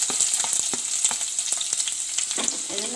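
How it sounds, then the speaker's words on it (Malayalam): Finely chopped ginger and garlic sautéing in oil, a bright, steady sizzle with quick rhythmic stirring taps throughout, close and fairly loud, no talking. "ആദ്യം തന്നെ അത് കഴിഞ്ഞ് ഇഞ്ചി വെളുത്തുള്ളി ചെറുതായിട്ട് അരിഞ്ഞത്"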